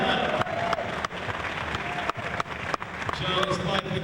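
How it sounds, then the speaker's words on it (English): An audience at a leather contest gives a contestant a round of applause, steady dense clapping with a few sharper bursts, while an announcer's voice carries over the crowd. "let's give him a nice round of applause"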